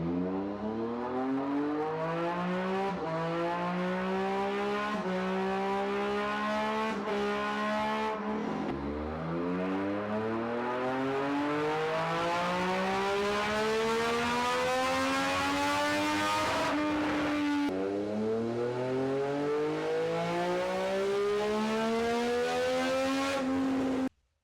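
Triumph 765 Street Triple RS engine with an air intake mod revving hard on a dyno, loud repeated climbing wails through the gears that rise steadily and drop sharply between pulls, ending abruptly.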